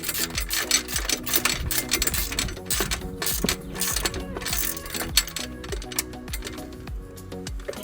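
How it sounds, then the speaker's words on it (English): A ratchet wrench tightening bolts on a folding electric bike rack, fast repeated metallic clicks in steady bursts, close and clear with no voices. "Having a ratchet wrench like this makes life so much easier."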